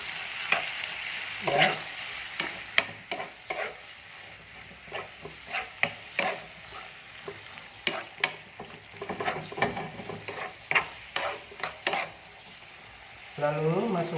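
Seasoning and salt stirred into food frying in a pan for a home-style grilled squid rice dish: steady sizzle underneath, with repeated scraping clinks of the spoon on the pan, close and moderately loud, plus a brief word spoken.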